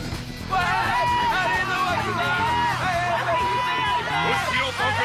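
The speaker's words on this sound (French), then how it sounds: "Et on applaudit un petit cosmonaute et un grand blader." Stadium crowd at a Beyblade tournament cheers and whoops in a loud, sustained roar of babble and shouts, rising suddenly and holding steady throughout.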